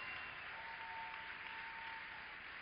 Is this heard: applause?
yes